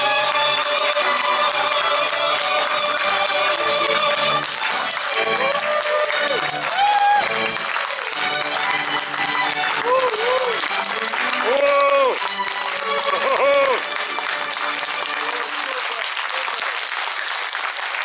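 An opera audience at a performance of Pergolesi's comic opera applauds steadily and loudly throughout, with musical tones and voices carrying over the clapping.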